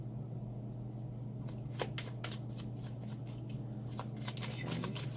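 Tarot cards are shuffled by hand in repeated quick riffling bursts close by, over a steady low background hum, with no talk.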